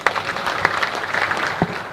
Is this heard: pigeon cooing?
no